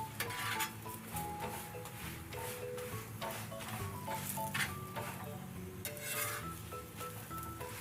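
Chicken roll paratha roasting in oil on a griddle, a soft continuous sizzle with occasional scraping and clinking from a spatula, steady and fairly quiet throughout.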